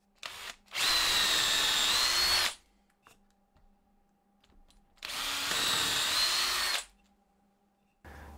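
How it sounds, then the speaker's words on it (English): A power drill bores holes in wood through a drill guide, two loud sustained whirring bursts of about two seconds each separated by quiet, close and unaccompanied by speech. "the holes drilled in the first one using a drill guide so they're nice and straight"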